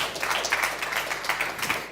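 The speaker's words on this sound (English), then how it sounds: "a big applause for Nicolas" An audience at a startup pitch event claps briefly, a dense patter of applause from a room of people for a couple of seconds, fairly soft and without speech.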